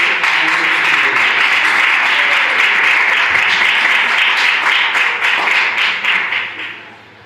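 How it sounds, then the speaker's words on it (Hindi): Loud, dense applause from a seminar audience welcoming a speaker at a college memorial event, sustained for several seconds before fading out at the end. "जोरदार तालियों के साथ स्वागत करें"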